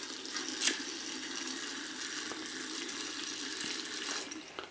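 Tap water runs steadily into a container during cooking, a soft continuous splashing stream with a brief louder splash near the start and no voices.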